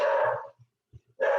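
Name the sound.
dogs barking in the background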